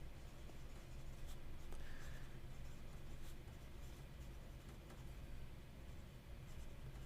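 A thick pencil scratches across paper in a faint, continuous papery rasp, with a few slightly sharper strokes and no talking.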